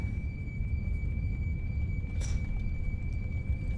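A Boeing 787-10 in Microsoft Flight Simulator gives a thin, steady high-pitched brake squeal. The squeal holds without a break over a constant low rolling rumble as the airliner slows on the ground.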